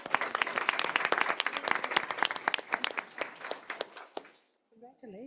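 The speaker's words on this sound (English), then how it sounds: "Please give our high school winners another round of applause." Loud, dense applause from a school board meeting audience honoring high school award winners, many hands clapping steadily before thinning and fading out near the end, followed by a brief voice.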